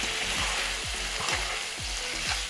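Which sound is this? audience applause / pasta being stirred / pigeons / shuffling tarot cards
pasta being stirred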